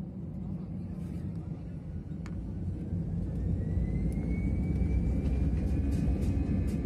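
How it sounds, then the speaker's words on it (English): A passenger aircraft cabin in flight carries a constant low engine rumble and airflow roar that grows slightly louder over time, with a faint thin whine above it and no talking. "Let's get on board and settle into the flight."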